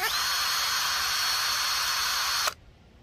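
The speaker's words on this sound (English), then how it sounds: "you attach it to your drill just like this" A power drill fitted with a blade sharpening attachment whirs steadily with a high, grinding hiss for over two seconds while sharpening a lawn mower blade, then cuts off abruptly, leaving quiet.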